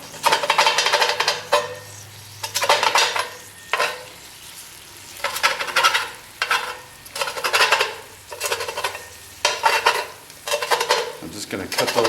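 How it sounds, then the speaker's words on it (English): Bacon frying in a Dutch oven, a steady sizzle broken by repeated bursts of scraping and stirring against the pot, close and fairly loud with no talking. "Bacon's still cooking, but it doesn't need to be all the way done."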